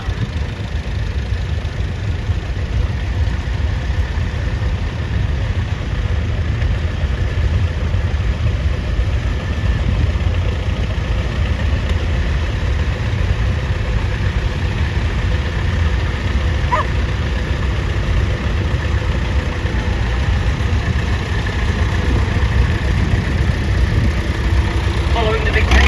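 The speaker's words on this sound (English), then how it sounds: "the big American tractor, the big Case, the Case 900 Prairie Buster" Case 900 Prairie Buster, a big American tractor, idles at a steam and country show with a steady low engine rumble throughout, and voices are audible over it.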